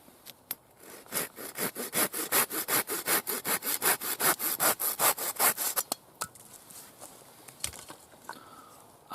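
A hand saw cuts through the end of a piece of wood in about twenty quick, rhythmic back-and-forth strokes, close and clear, then stops, leaving a few small knocks and faint outdoor sounds.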